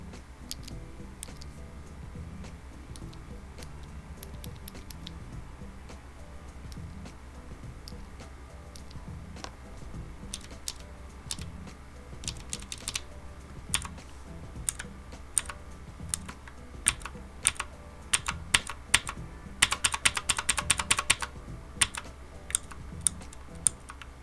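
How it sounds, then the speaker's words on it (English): Close, steady typing on a keyboard fitted with Outemu mechanical switches, tested both bare and with keycaps on: a quick stream of crisp clicks and clacks with busier bursts near the end. "a quick sound test of what they sound like without the keycaps on and with the keycaps on"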